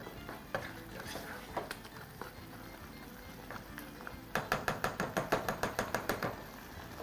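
A spoon scrapes and knocks in a pan of carrot coconut stew with tomatoes, scattered light clinks at first, then a rapid regular run of stirring scrapes near the end, moderately close.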